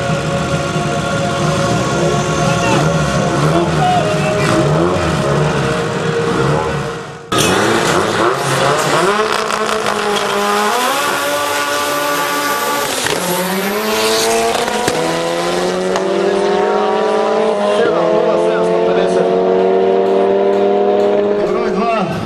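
An Opel Calibra race car of over 500 horsepower screams past at full throttle, its loud engine howl rising and dropping through gear changes with a brief cut and tire squeal, while a commentator talks over it.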